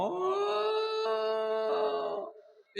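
A voice imitates an old dog crying, a sustained wavering howl-like wail that holds steady for about two seconds and then fades out, close and loud with no other sounds.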